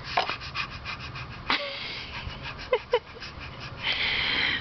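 A young child imitates a dog up close, with breathy panting and a few short, sharp yelps or barks scattered through the moment.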